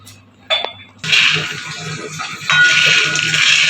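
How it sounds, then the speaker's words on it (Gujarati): Peanuts dry-roasting in a pan over a medium gas flame: after a brief clink, a continuous close rattling and scraping sets in as the nuts are stirred and tossed, growing louder partway through. "મીડિયમ ફ્લેમ ઉપર સિંગદાણાને શેકી લેવાના"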